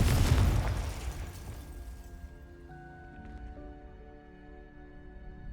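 A fire spell from Hogwarts Legacy bursts in a loud, close explosion, then fades into a long rumbling tail while steady tonal game music rings out underneath.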